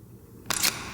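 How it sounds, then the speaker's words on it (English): A Sony A5100 camera shutter fires once, a crisp, close mechanical click-clack lasting about a fifth of a second against a quiet room. "Another thing I like about the A5100 is the shutter and the sound of it."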